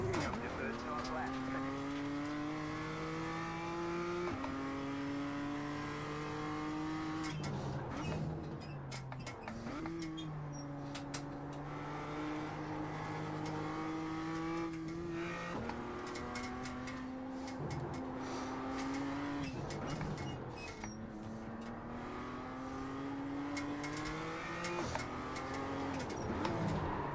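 A Formula 4 race car on a timed lap at Laguna Seca, its engine droning steadily near and loud, pitch climbing through gears and dropping at shifts and braking zones, with occasional tire noise and a voice talking over it.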